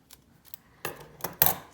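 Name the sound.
scissors cutting washi tape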